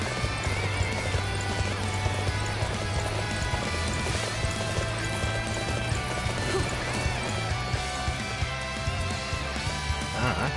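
A horse in the video game Dynasty Warriors 9 gives a whinny over a continuous clip-clop of hooves, set against a steady in-game music and ambience bed.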